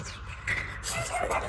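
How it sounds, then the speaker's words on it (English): A dog barks and yips a few times nearby, short sharp bursts mixed with background noise and a bit of talking. "they heard the barking in the front"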